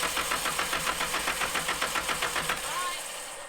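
An SR20-swapped Miata with its fuel pump relay pulled cranks over in a fast, even rhythm of starter pulses for about three seconds, loud and close, then winds down.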